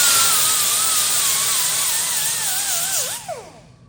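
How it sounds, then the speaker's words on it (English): A power tool strips mill scale from hot rolled steel, giving a harsh, steady grinding hiss with a wavering whine that drifts in pitch before the tool winds down. "What I'm doing here is just getting this hot rolled steel, the scale, I guess they call it, off."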